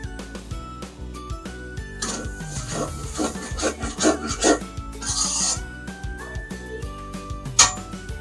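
Spices being stirred in a pan for ghugni, a Bengali chickpea curry, heard as repeated scraping and rubbing strokes of a spoon against the pan, with a tonal backing underneath and no talk.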